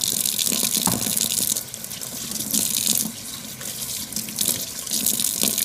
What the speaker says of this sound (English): First, I'm going to rinse my hands with some warm water.